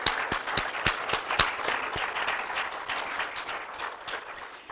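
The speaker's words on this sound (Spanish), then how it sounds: "Y un gran aplauso para todos los ganadores" An audience claps for the winners of a drawing and painting contest, with individual sharp hand claps standing out early over a steady wash of applause that stays moderately loud and even.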